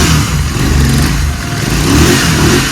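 A Royal Enfield Continental GT 650 motorcycle engine, freshly restarted after cylinder head work to fix a sound problem and with its timing corrected, revs loudly and steadily up close with a rough, continuous mechanical roar.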